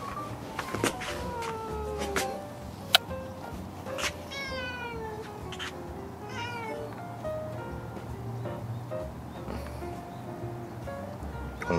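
A cat meows repeatedly at close range while winding around someone's feet indoors, with several rising and falling calls spread across the stretch over a low, steady room hum.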